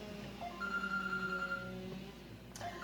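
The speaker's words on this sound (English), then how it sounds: "that's my husband's phone" A mobile phone rings in a home kitchen, giving a faint melodic ringtone with sustained electronic tones and a few short notes, heard at a distance over low room noise.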